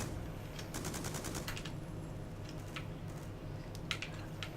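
Rapid bursts of automatic gunfire from Black Ops 2 multiplayer on the Nuketown map, a quick rattling volley early on and a couple of shorter bursts later, fairly faint over a steady background rumble.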